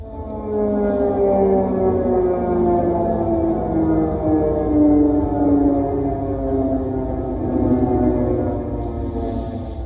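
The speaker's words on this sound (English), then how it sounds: "the evening in Kiev, of course, starts with many of these blaring air raid sirens" Air raid sirens blaring across Kyiv in the evening, long sustained wailing tones slowly rising and falling, several overlapping from a distance, loud and steady with no talk.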